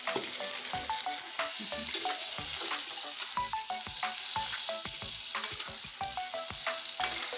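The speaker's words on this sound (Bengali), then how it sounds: "এ দেখুন আমি পটলগুলো সুন্দর করে ভেজে নিয়েছি" Pointed gourd sizzles steadily in hot oil, with a spatula scraping and clinking against the pan in frequent irregular strokes throughout.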